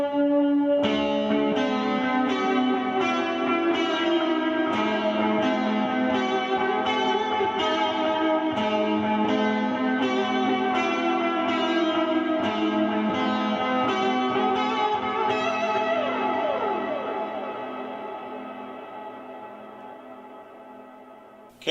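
Electric guitar played through an overdrive pedal, then a delay and reverb section, into the front of a Fender amp, ringing sustained chords with rhythmic strums and a long trailing echo fading out at the end.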